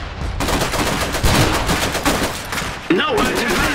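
Dense battlefield gunfire in the Iron Harvest strategy game: continuous loud machine-gun rattle and rifle shots without a break, with game voices shouting briefly over the fighting.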